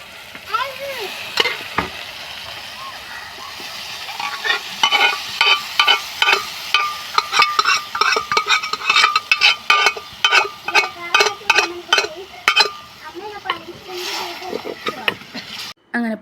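Spice powders and shallots sauté in a pan for a Kerala-style beef curry, with a steady sizzle under rhythmic scraping and stirring strokes that quicken in the middle and ease off toward the end.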